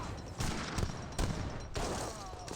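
A Japanese mortar and gunfire volley strikes Yumi Archers in an Age of Empires 3 battle, a dense crackling fusillade of overlapping shots rolling continuously for a couple of seconds.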